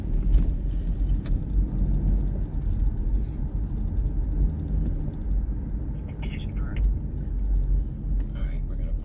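A car drives along a road with a steady, loud engine and road rumble that holds throughout, close by from inside the vehicle, with a few faint clicks and taps over the noise.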